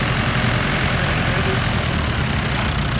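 A vintage Massey Ferguson 135 tractor engine holds a steady, loud low rumble as it rolls past in a machinery club grand parade, with faint voices beneath.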